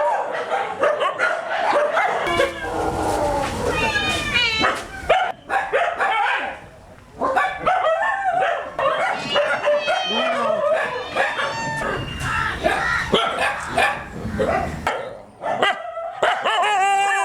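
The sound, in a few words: dogs barking and cats meowing at animal shelter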